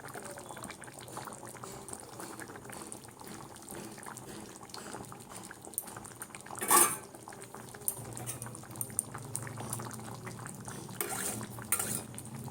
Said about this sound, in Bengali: চলো এটা ফুটতে থাক, আমি আবার ঢাকা দেব।